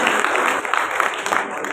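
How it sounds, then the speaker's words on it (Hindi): Steady applause from an audience at a Hindi poetry gathering, a dense patter of clapping hands that continues evenly without any pause. "तो थोड़ी तालियां इनके सम्मान इस बात के लिए करती है।"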